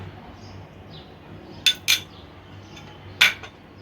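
A spoon clinks and taps a few times against a bowl while mixing spice paste for a goat leg, three short metallic knocks over a quiet background hum.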